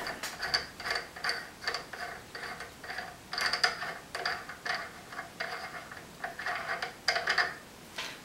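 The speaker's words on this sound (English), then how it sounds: "we're going to take off this nut" Nut turned off a crankcase pulling shaft, giving rhythmic ratcheting clicks in repeated close bursts, each a quick run of metallic ticks, with short pauses between strokes.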